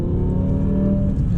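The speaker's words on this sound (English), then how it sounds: "that exhaust sounds amazing" A BMW M6 with a V10 engine and manual gearbox accelerating, its exhaust giving a loud, steady, low engine drone heard from inside the car, holding strong throughout with no talk.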